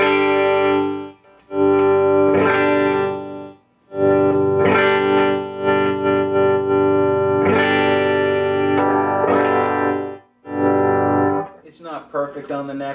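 ESP LTD EC1000 FM Deluxe electric guitar with Seymour Duncan JB and '59 pickups plays loud distorted sustained chords, ringing in long held blocks separated by short gaps, ending in quicker picked notes.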